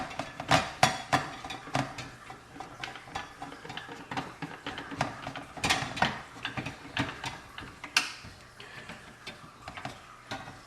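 Small screw being backed out of a Slick Par 5 golf arcade game during repair, a run of close, light ratcheting clicks and ticks from the screwdriver and mechanism, irregular and quiet, with no talking.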